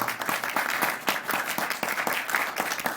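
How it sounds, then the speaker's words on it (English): Steady applause from a school festival audience honoring a jazz ensemble's teacher with an award, a dense continuous wash of many hands clapping at moderate distance with no talk on top. "Give him a round of applause."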